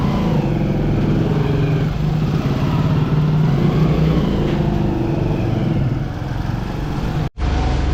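A motorcycle rides through narrow old-town lanes in Jaisalmer, its engine a loud, close, steady drone that rumbles on almost the whole time before cutting out briefly near the end.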